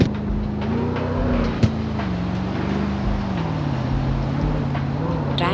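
A BMW drives through traffic in the racing game CarX Street, its engine a steady, loud droning hum that slowly dips and rises in pitch, with one brief click.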